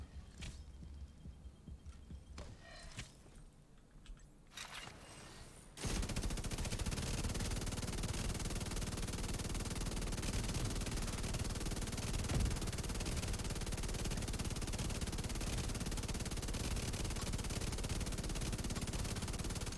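Sustained rapid automatic fire from a GR9 light machine gun in The Division 2, a dense unbroken stream of shots running loud from about six seconds on after a quieter opening of scattered game sounds.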